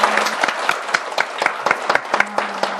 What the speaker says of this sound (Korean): 그 은혜의 짜릿함을 우리가 한번 격려의 박수로 좀 해주셨으면 좋겠어요